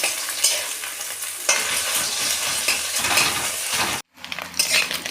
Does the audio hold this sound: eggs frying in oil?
yes